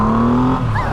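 A 2021 Triumph Rocket 3 R motorcycle accelerates hard on a country road, with a loud, close engine roar rising in pitch over one continuous second.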